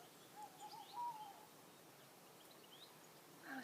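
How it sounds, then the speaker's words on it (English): An owl calls softly in a quiet outdoor setting, a few faint, brief hoots rising out of low background hiss with no talking. "Oh, is that an owl?"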